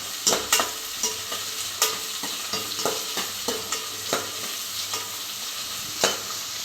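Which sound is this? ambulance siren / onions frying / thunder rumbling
onions frying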